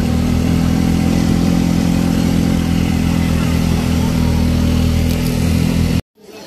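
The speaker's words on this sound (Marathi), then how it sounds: "आता आम्ही रिक्षा केली वर जाण्यासाठी" An auto rickshaw engine drones loud and close with a steady, rattling mid-pitched hum as it climbs toward the Ekvira temple, then cuts off abruptly near the end.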